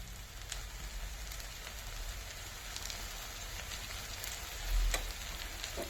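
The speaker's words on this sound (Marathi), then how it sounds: "आणि हे मिश्रण चांगलं हलवून घ्यायचं" Cooked fenugreek greens mixture stirred in a pan over the heat, giving a steady, close sizzle that hisses evenly throughout, with a faint scrape of the spoon now and then and no voices.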